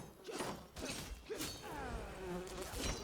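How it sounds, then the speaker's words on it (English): Insect buzzing from bees in the video game Enshrouded, a steady, wavering drone close by with scattered clicks and rustles in the game soundscape, lasting a few seconds without speech. "Bees."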